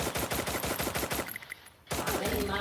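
Rapid automatic gunfire from the Free Fire video game rattles in quick, loud bursts. There is a short pause, then more shots follow, with no talking.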